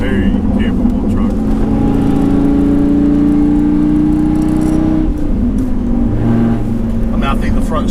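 A Dodge Viper truck's engine drones and rises in pitch as it accelerates, heard from inside the cab, with a brief dip before pulling again and someone talking over it.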